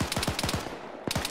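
Video game gunfire in Operation Afghanka, rapid automatic bursts of close, crisp shots, a quick string of rounds, a brief pause, then another short burst.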